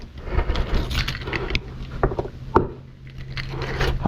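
A set of keys jangles and clinks close by for about four seconds, with a sharper metallic clack partway through.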